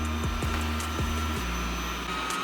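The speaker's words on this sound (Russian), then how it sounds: "В стандартном режиме пылесос работает очень тихо." A Dreame Bot D10 Plus robot vacuum cleaner runs in standard mode, a steady, fairly quiet motor hum with brief dips in pitch as it moves, heard alone and close.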